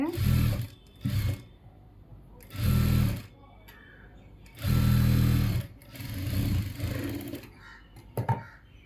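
A sewing machine stitches a blouse band in short bursts, several separate runs of motor whir with pauses between them, close and moderately loud.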